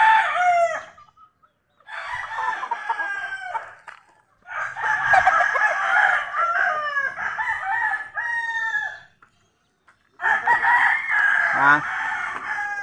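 Chickens on a family outing by the sea, with a rooster crowing and hens clucking in several loud, close bursts separated by short pauses.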